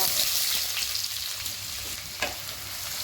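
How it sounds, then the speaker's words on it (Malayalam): Onion fries in hot oil in a pan with a dense, steady sizzle and hiss. A couple of faint stirring clicks break through, and there is no speech. "എണ്ണ ചൂടായി വരുമ്പോ നമുക്ക് സവോള ചേർത്ത് കൊടുക്കാം"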